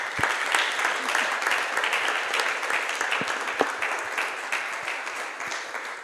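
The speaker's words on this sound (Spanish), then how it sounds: "Un aplauso para ellos" Applause for the technical crew at a video game event in Navarra, a dense, even patter of many hands sustained for about six seconds, with a few sharper claps standing out.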